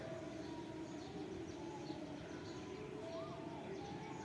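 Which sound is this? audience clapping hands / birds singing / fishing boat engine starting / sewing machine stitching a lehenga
birds singing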